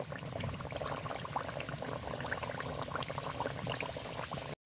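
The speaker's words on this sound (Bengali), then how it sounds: "এবার গরম তেলে দিয়ে দিব খুব সুন্দরভাবে ভেজে নিব" Potato and flour snacks fry in hot oil with a dense, continuous close-up crackle and bubbling hiss, steady throughout and briefly dropping out near the end.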